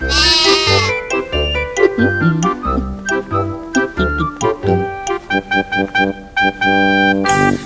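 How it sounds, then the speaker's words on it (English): Repeated sheep bleats, loud and close, come in short wavering calls over a light jingling musical backing. "Little Bo Peep has lost her sheep and doesn't know where to find them"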